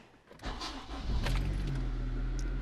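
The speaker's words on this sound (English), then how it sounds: "Let's see what happens when we turn the engine on." A 2.0L Honda Civic Si engine starting, a brief crank and scrape followed by the engine catching and settling into a loud, low, steady idle close by.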